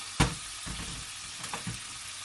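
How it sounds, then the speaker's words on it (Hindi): Chicken cooking in a pan for a tomato gravy, a close, steady sizzle and frying crackle with a few sharper spits and stirring knocks, no voices. "इधर मेरी चिकन कुक हो रही है"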